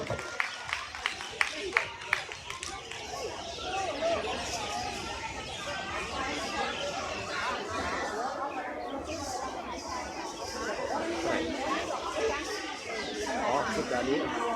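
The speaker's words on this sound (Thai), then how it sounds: "ขอเสียงปรบมือด้วยครับ" Crowd at a temple festival in Chom Thong, Chiang Mai claps for a municipal school dance troupe, a few sharp claps up front giving way to steady applause mixed with chatter and murmur throughout.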